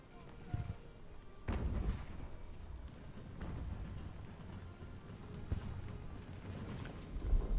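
Mortars and artillery firing in the naval-era strategy game Ultimate Admiral: Age of Sail, a series of deep booms at irregular intervals over a constant battlefield rumble.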